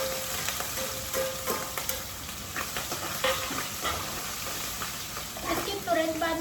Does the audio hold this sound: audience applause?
no